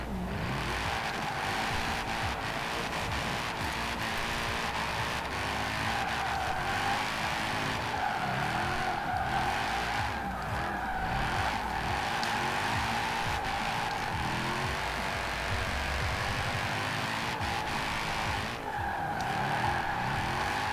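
Tires skid and squeal steadily on a Mercedes-AMG GT R with stock rear tires, drifting in Forza Horizon 4, the sustained screech riding over engine roar for the whole stretch with no talk.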